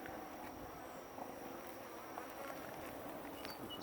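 Honeybees at an open hive give off a steady, soft, continuous buzzing hum with no talking over it.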